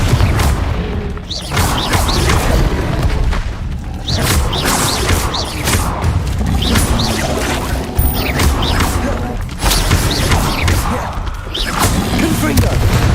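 Confringo fire spells blast repeatedly in the Hogwarts Legacy video game, loud booming explosions and crashes firing one after another over a dense, continuous battle din.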